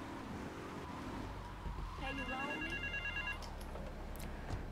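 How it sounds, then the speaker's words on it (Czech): A payphone rings in the video game GTA III, a bright electronic trilling ring from about halfway through, heard over a constant low engine and traffic drone from the game. "Telefon, mobily ještě neexistovaly."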